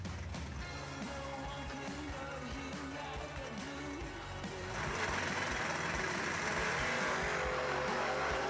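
Ford Mustang and Chevrolet Camaro door cars drag racing at a door car duel event, with steady loud engine roar that swells louder midway as the cars launch and run down the strip.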